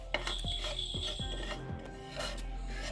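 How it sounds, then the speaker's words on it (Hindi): Ajwain (carom seeds) dry-roasting in a pan give a soft, continuous scratchy rasping with a few light ticks of seeds and utensil against the pan, close by and steady, with no talk. "पैन के अंदर मैं डालूंगी यहाँ पे अजवाइन।"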